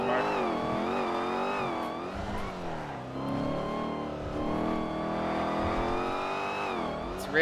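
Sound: supercharged car engine whine in GTA video game

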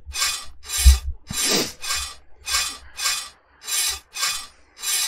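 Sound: sawing through a padlock in video game Stay Still

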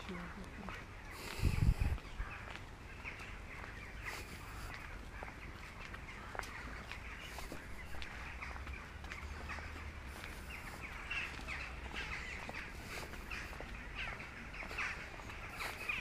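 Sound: crows cawing

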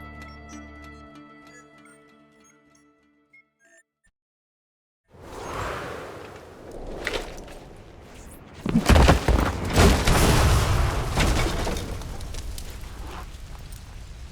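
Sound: explosions in the video game Assassin's Creed Brotherhood

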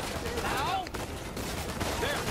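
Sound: gunfire in the video game Uncharted 4

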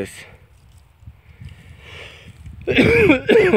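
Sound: coughing

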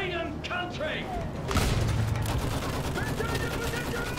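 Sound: machine gun fire in Battlefield 1 video game

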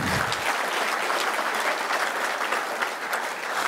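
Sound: audience applause for the First Lady

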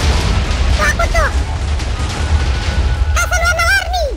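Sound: colorful firecracker TNT exploding in Minecraft video game

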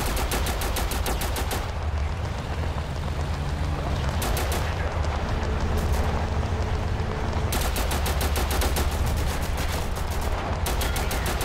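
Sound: gunfire in video game Total Conflict: Resistance

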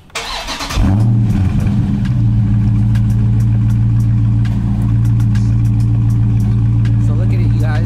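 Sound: Dodge Charger Scat Pack engine starting and idling

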